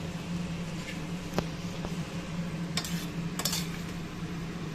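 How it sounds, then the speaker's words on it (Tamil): A spoon stirs carrots, beans and meal maker soya chunks in a pot for biryani, giving faint, scattered clinks and scrapes against the metal over a low background hum. "நல்லா அப்படி கிண்டி விடணும்."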